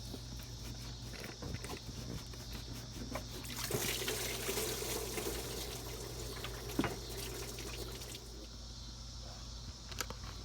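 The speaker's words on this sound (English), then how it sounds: "Now let's pull the hose off." Coolant trickling and dribbling from a hose pulled off the water pump of a Dodge Ram, a steady faint liquid patter with a brief louder splashy stretch in the middle, close by.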